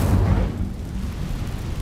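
Incendio fire spell cast in Hogwarts Legacy: a loud, deep whooshing burst of flame erupts at once, then settles into a rumbling roar that fades slightly over under two seconds.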